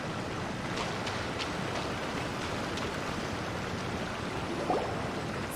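Rushing waterfall water in a video game, a steady broadband roar that stays even throughout, with no talk over it.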